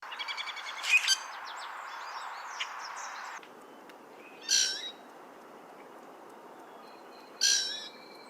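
Three separate bursts of rusty blackbird song ring out against a quiet background, each a short complex phrase of high notes, spaced a few seconds apart.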